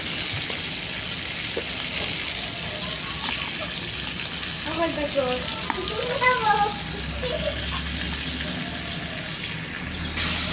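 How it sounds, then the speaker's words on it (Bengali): A spice paste of chili, onion, garlic, mustard and cumin with salt and turmeric sautés in a pan, giving a steady sizzle with scraping stirs and a few brief wet splatters throughout. "হলুদ দিয়ে ভালো করে কষিয়ে নেব।"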